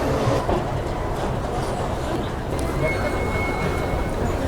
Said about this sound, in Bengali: বন্ধুরা একদম রাইট টাইমে আমাদের ট্রেন ছেড়ে দিল শিয়ালদা স্টেশনের 12 নম্বর প্ল্যাটফর্ম থেকে